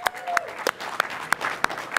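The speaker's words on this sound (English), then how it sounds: "Let's give him a huge round of applause, guys." An audience at a CS:GO esports match applauds the winning team captain as he comes to the stage, with sharp, rhythmic claps and a voice speaking over them.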